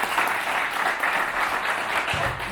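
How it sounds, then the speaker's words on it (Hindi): Crowd listening to a speech in Himachal Pradesh about ESIC health coverage breaks into sustained applause, a dense even patter of many clapping hands at moderate volume with faint low rumble beneath. "अब इस पे ताली तो बजावे"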